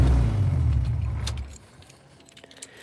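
A rear-wheel-drive Honda engine at operating temperature idles with a loud, steady low rumble, then shuts off about halfway through, leaving near-quiet with faint light clicks and jingles.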